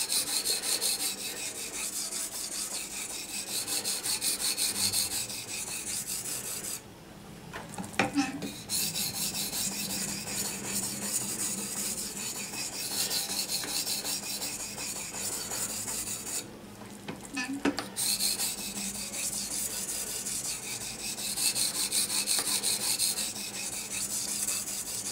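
A D2 steel knife blade is drawn dry across a Venev diamond sharpening stone in steady, close rasping strokes. Two brief pauses break the continuous grinding, and no one speaks.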